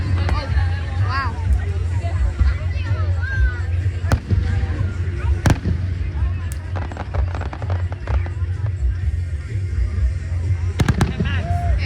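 Fireworks burst repeatedly at an outdoor event, sharp booms and crackles rising over constant crowd chatter, with several loud cracks clustered near the end and voices talking close by.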